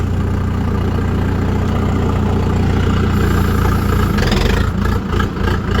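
A T-40 tractor engine runs steadily at idle, a loud continuous low rumble with no talk, swelling slightly near the end as if about to pull away.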